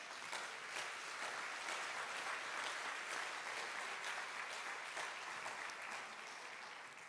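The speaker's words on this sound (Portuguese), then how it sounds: "Você pode dar um aplauso ao Senhor?" A church congregation claps for the Lord during a teaching service, a sustained wash of many hands clapping at a steady rate, faint and distant-sounding throughout, with no voices rising above it.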